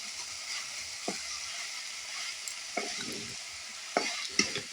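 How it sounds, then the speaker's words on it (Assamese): Elephant foot yam pieces fry in plain oil with no meat added, giving a steady soft sizzle close by, broken by occasional scrapes and clicks of stirring and no talk. "আজি বাৰু একো দিয়া নাই খালি তেলেৰে ভাজিছোঁ"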